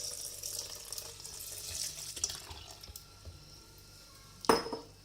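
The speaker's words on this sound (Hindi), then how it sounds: "अब मैं इसमें दूध डाल रही हूँ।" Milk poured over strawberries and banana in a blender jug for a smoothie, a soft close liquid trickle followed by a sharper clink of the container toward the end.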